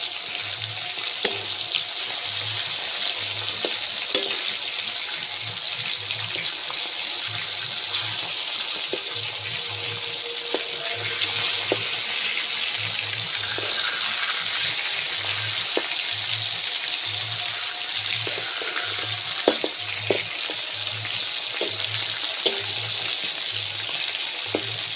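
Pangas fish frying in hot oil, with a steady, close sizzle and popping spatters throughout and a faint regular low hum beneath.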